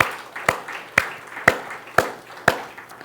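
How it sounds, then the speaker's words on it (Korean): A church congregation claps in slow unison, six sharp, evenly spaced claps about half a second apart, moderately distant over a faint room hum. "여러분 박수 한번 쳐주십시다"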